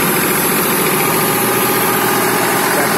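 A 36-40 size tractor drives a new straw cutter machine during threshing, giving a steady, loud mechanical drone and whir that holds unchanged throughout with no voices.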